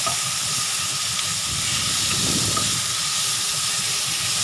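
Pork and sausage sauté in a hot pan, giving a loud, continuous sizzling hiss with a brief surge of stirring partway through.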